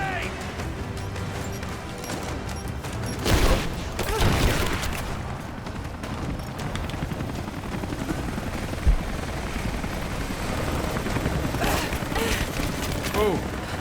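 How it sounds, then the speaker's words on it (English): Gunfire and a grenade explosion in the Rise of the Tomb Raider video game: a dense, continuous roar of combat noise, with two heavy blasts early on and a sharp crack later. "Laying down cover and fire!"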